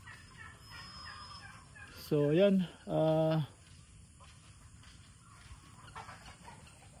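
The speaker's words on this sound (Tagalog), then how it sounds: "Ayan yung ating mga manok." Farm chickens call out twice in quick succession, close and loud, after someone speaks briefly, with faint rain-soaked yard ambience around them.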